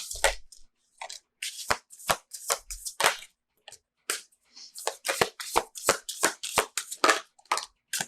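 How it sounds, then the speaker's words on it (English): Tarot cards being shuffled by hand in quick, close riffles and slaps, coming in uneven bursts with short pauses between them and no talk. "let's get some more cards here."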